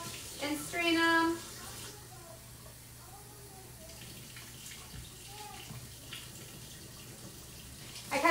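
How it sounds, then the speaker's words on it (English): Tap water runs briefly into an opened can of black beans in a kitchen, a short loud gushing burst followed by quieter trickling and light rinsing sounds over a steady background hum. "I'm just gonna run some water into this can of black beans and strain it out."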